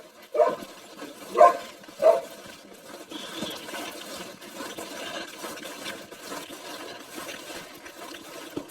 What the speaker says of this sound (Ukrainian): Ми вже з тобою познайомились, хватить гавкати